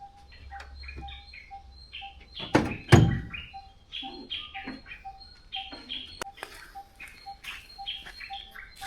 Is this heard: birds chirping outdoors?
yes